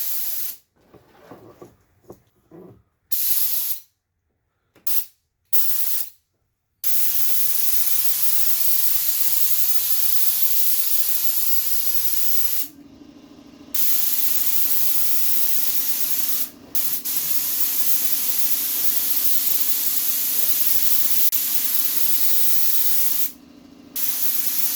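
Conventional spray gun laying down thick latex paint, a loud close continuous hiss that starts and stops in several short bursts, then runs long with only brief breaks.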